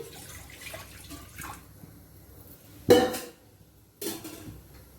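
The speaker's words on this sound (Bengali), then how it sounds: "কড়াইতে একটু জল দিচ্ছি" Water poured into a wok on a gas stove before cooking jute leaves, with two short splashing bursts and faint clinks of the pan in a quiet kitchen.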